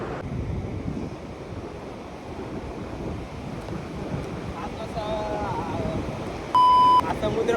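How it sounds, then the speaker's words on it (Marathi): Rough sea surf churning and breaking steadily close by, with wind buffeting the microphone and a short electronic beep near the end. "समुद्रात लाटा खवलेल्या आहेत आणि या लाटा बघा"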